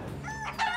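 A rooster crows once among hens, a short loud close call with a rising strained end.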